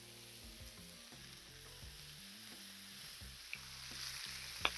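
A pound of thick cut bacon fries on a flat griddle, giving a quiet, steady sizzle with faint hum and a couple of small clicks near the end.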